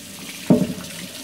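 Hot water splashes from a tap into a sink in a short burst, close and fairly loud, before settling to a faint background hiss.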